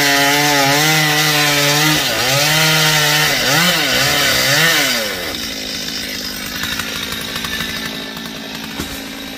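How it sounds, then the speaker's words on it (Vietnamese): A nearby chainsaw revs up and down loudly, then bites into a eucalyptus trunk, its engine note dropping into a rough, steady cutting drone, in a tight space. "cưa khớp từng khúc"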